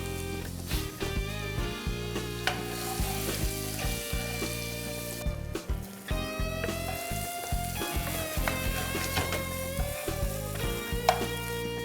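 Onions fry in a pan with cumin and ginger, a steady, close, loud sizzle with occasional stirring scrapes, running alongside tonal background music.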